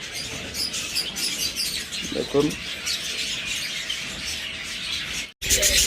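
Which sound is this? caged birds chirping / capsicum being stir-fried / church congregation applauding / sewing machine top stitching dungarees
caged birds chirping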